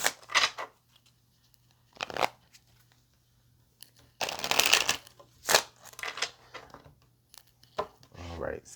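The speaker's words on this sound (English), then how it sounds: "Let's get a couple of more shuffles." Tarot cards being shuffled in short bursts of papery riffling and flicking, with gaps of near silence between them and a faint steady hum underneath.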